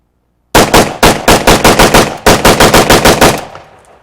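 A Polish-made AK-47 rifle fires a full magazine outdoors in two loud, rapid bursts of about a dozen sharp, close shots each, separated by a brief pause and trailing off into echo.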